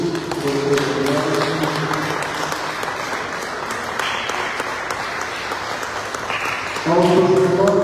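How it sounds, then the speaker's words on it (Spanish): A congregation at the Sacred Heart of Jesus church in San Miguel applauds in a strong sustained burst of clapping, with music and voices sounding underneath at the start and end. "Le damos un aplauso fuerte a Jesús por"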